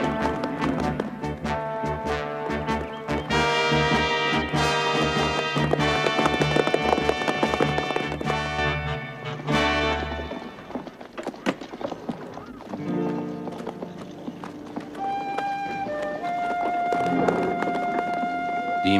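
Horses' hooves clip-clop in a quick, irregular patter from riders in a 1931 western film, mixed under an orchestral music score.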